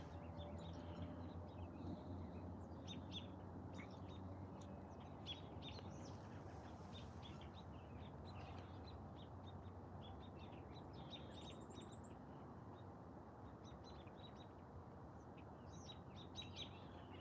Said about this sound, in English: There's a bird there.